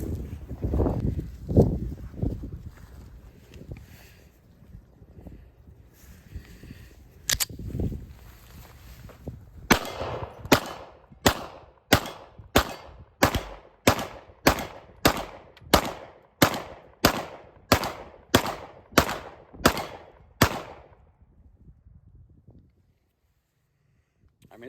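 Two pistols, a Staccato P and a Springfield Prodigy, fire a steady string of about fifteen sharp, evenly spaced gunshots, loud and close. Talk and shuffling come before the shots begin, and the string ends in silence.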